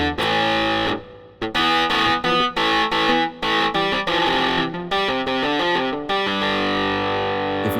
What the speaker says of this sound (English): There's all sorts of distorted guitars.